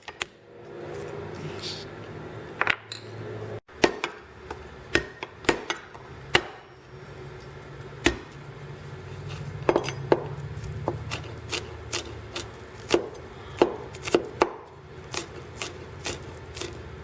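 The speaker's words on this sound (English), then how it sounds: "ដំវាដើម្បីឲ្យវាចូលជាតិគ្រឿង" Repeated sharp chopping thuds as crab is pounded to take in seasoning for a curry powder stir fry, irregular knocks of varying loudness, close by, with some faint talk in between.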